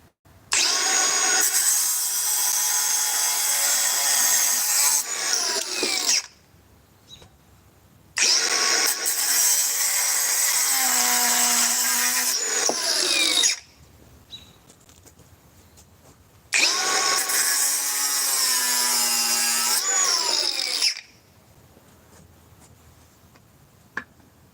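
A Milwaukee angle grinder running at high speed in three long, loud runs, each winding up to a steady high whine and then spinning down into short quiet gaps.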